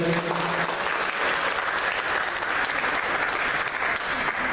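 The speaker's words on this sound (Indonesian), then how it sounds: "Coba tepuk tangannya sekali lagi." Audience applause at a political education event for first-time voters in Indonesia, a dense, steady wash of clapping from a crowd, loud and sustained throughout with no pause.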